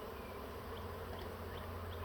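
A wild honeybee swarm drones in a dense, continuous buzz close by, with individual bees whining past now and then over the steady hum.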